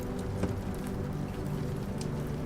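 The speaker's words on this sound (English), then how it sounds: "listen to the soothing sounds of the rain" Steady rain falls beneath a tree as a dense, even hiss of drops with a soft patter, unbroken and moderately quiet throughout.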